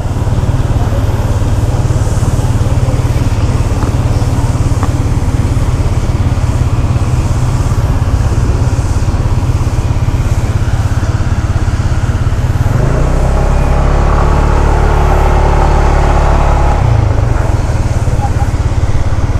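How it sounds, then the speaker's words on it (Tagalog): Loud, steady engine drone of a tractor mowing grass continuously nearby, its pitch shifting briefly toward the end. "naglo-lawn mower yung traktora."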